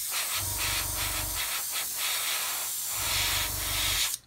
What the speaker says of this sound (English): I'm literally going to spray it